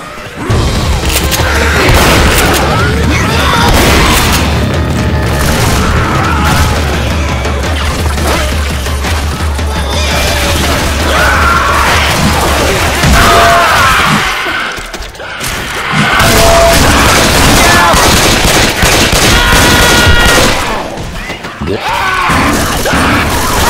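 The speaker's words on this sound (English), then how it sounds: "Pipe bomb." A pipe bomb explodes in the Left 4 Dead 2 Swamp Fever campaign on Expert difficulty. Loud booms and crashes are buried in chaotic, sustained combat noise, with voices talking over it.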